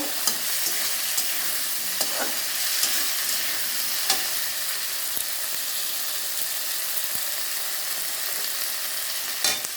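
Slit green chillies frying in a pan while being stirred: a steady, close sizzle runs throughout, broken by light scraping clicks and taps from the stirring utensil.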